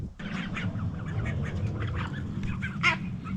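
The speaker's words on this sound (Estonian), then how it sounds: "Nüüd on pardipere hoovi peal." A family of ducks in a yard quacks repeatedly in short nearby bursts over a steady low background hum.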